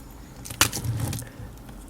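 Cat beads rattle and clatter inside a plastic compartment box in one brief jangling burst of small hard pieces, close and fairly loud, then settle into quiet.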